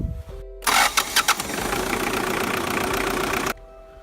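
A diesel engine cranks over in a few quick turns, catches and settles into a loud, steady idle close by, then cuts off abruptly.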